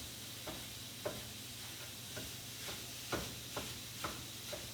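Ground beef for chili sizzles faintly in a pot while a mincing tool stirs and breaks it up, giving soft, irregular scraping knocks about every half second over a steady low hum.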